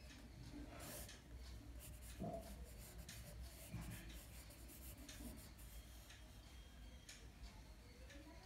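Soft pastel sketching on paper for a coconut palm landscape, faint continuous scratchy rubbing strokes with light ticking taps, close and quiet, over low steady background hiss.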